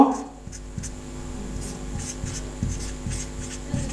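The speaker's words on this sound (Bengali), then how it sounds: "আমরা 11 লিখলাম" Pen or marker writing the number 11 by hand, a soft scratchy rubbing of strokes repeating through four seconds at close range, with faint background hum and no talking.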